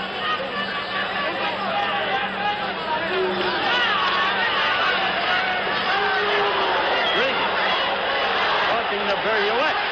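The arena crowd at the Roberto Duran vs Edwin Viruet boxing fight boos, a continuous, loud roar of crowd noise with a ringside commentator talking throughout.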